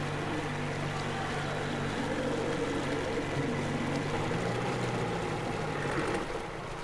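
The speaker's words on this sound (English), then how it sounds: "Kill the engine, guys!" Boat engine in the Metro Exodus video game, a loud, steady droning rumble with water and wind wash throughout, dropping off slightly at the very end as it shuts down.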